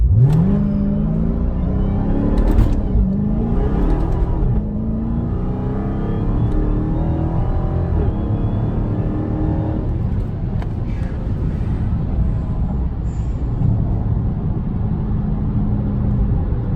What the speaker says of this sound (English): I'm going to do another 0 to 60.